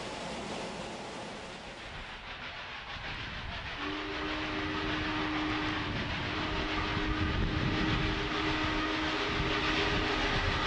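Union Pacific giant steam locomotive running on the grassy plains of Wyoming, a loud continuous rumble and hiss with a sustained steam whistle joining partway through, no voices.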